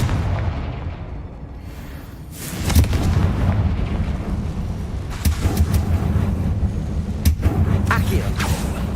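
Blasting explosions from the Confringo spell in the Hogwarts Legacy video game: a heavy boom near three seconds, then further sharp blasts around five and seven seconds over a steady rumbling battle bed.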